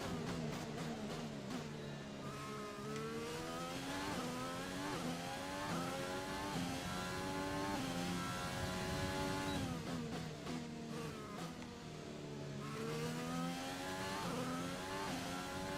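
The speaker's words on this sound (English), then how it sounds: "Away we go for qualifying for the Hungarian Grand Prix. First lap out of the blocks." An F1 car engine in the F1 2020 video game screams through a qualifying lap at the Hungarian Grand Prix on soft tyres, with rising and falling high-revving pitch sweeps from rapid upshifts and downshifts, loud and continuous without speech.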